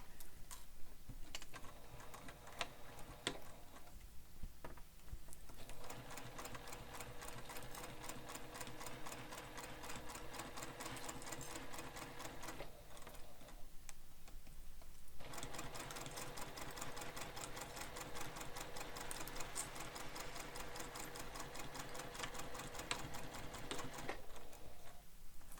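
A sewing machine stitches a bag seam, running in long steady bursts of rapid needle ticking, with two short pauses between runs, close and loud throughout.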